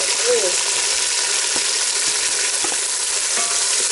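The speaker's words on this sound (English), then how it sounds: "Onions have turned golden brown. I have to add the tomatoes now." Tomatoes are added to golden-brown fried onions in a village kitchen in Kenya and sizzle steadily and loudly, with a few stirring clinks as the pan keeps frying. A voice comes through faintly.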